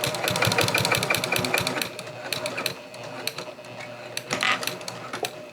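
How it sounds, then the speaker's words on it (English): Sewing machine back stitching a zippered boxy bag, a fast rapid rattle of stitches that stops, then shorter bursts and clicks, loud and close. "And I went up to that mark and I back stitched."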